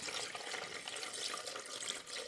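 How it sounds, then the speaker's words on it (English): Water pours into a floating bottle cauldron fountain, making a steady, close hissing splash at a moderate level that runs without a break and with no talking. "All you do is pour water in there."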